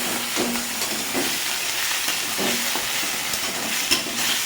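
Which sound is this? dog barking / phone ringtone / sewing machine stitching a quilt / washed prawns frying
washed prawns frying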